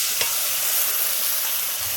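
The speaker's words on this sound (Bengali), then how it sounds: "পেঁয়াজ ভাজাতে দিয়ে দেবো" Onions frying in hot oil in a pan for a fish-head red amaranth chorchori, with a paste of ginger, cumin, chilli and turmeric stirred in: a continuous close, loud sizzle with faint stirring scrapes.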